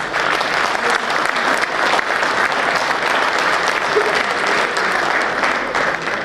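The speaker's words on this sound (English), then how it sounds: "I will say that you give him a big applause" An audience at a Delhi High Court Bar Association felicitation applauds the newly appointed Chief Justice, Devendra Kumar Upadhyay, with steady, dense clapping that fills the room evenly from start to finish.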